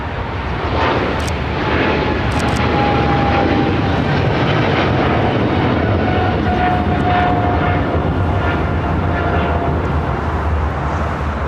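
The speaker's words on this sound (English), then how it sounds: "This is China Cargo Airlines 222 taking off to Shanghai on a 777 freighter." China Cargo Airlines Boeing 777 freighter taking off at LAX, a loud continuous jet engine roar filling the scene at steady distance with rumbling low end, heard alone without speech.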